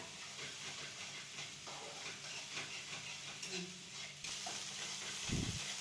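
Garlic sautéing in hot oil, stirred through, with a steady loud hiss and sizzle throughout and brief scraping strokes, growing denser toward the end.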